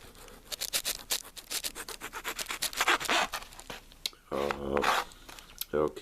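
A knife slicing through smoked meat, close, rapid scraping and sawing strokes in an irregular rhythm, with a voice speaking briefly near the end.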